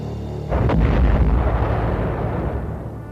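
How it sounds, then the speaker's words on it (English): Torpedo salvo from the British cruiser HMS Belfast exploding against the crippled German battleship Scharnhorst in December 1943, a sudden loud boom followed by a long rumbling roar that slowly fades, with no talk. "Belfast closed in to fire a last salvo of torpedoes at the crippled Scharnhorst"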